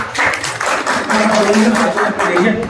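Steady, loud applause from a seated business-seminar audience, dense and continuous throughout, with voices mixed in underneath.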